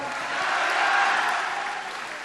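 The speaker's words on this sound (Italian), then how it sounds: "salutiamo con un grande applauso il nostro governatore Luca Zaia" Loud, steady applause from a large crowd at a Lega Nord party rally in Padua's Pala Geox arena, greeting regional governor Luca Zaia; dense clapping holds throughout with a slight swell in the middle.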